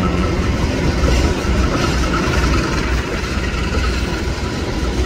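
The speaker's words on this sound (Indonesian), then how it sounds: "Di sana ada pergerakan langsiran dari kereta api Madiun Jaya." The Madiun Jaya passenger train's diesel locomotive, from the Cipinang depot, shunts at a station, giving a loud steady low engine rumble with rail noise throughout.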